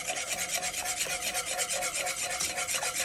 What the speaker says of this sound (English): Whisk that hoe.